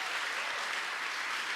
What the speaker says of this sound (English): let's give Jordan a big round of applause